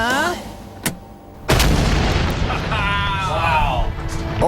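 An explosion in a sewer bursts behind a cinder-block wall lined with board: a sharp, heavy boom follows brief clicks, then a long rumbling roar continues while voices are heard around it.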